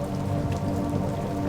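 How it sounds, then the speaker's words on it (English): Steady rain falls through the night beside a forest cabin, a soft, even patter on surfaces that holds at a constant level from start to finish with no voices. "The rain continued through the night, soft and steady like a lullaby."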